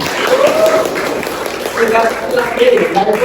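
A school class claps together in a room, a steady patter of many hands mixed with chatter and voices talking over it.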